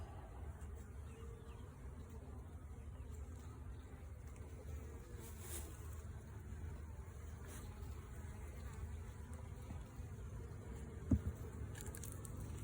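Honey bees in a hive during an inspection, a steady low droning hum of many bees throughout, fairly quiet and continuous with a brief knock near the end.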